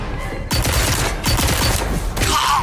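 Rapid gunfire in the virtual reality game Deadpool VR, with dense bursts of shots cracking out in quick succession across the whole moment, loud and close, no talking over it.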